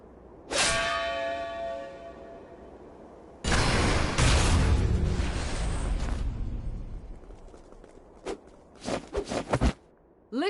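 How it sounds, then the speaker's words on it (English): A single church bell in the video game Octopath Traveler 2 strikes once near the start and rings out with a long, shimmering decay. A loud rumbling burst follows, then sharp scattered impacts. "The bell heralds your defeat."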